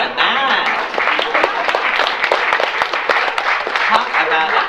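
Audience applause at a live comedy show, loud scattered clapping with sharp individual claps, mixed with crowd voices and some laughter.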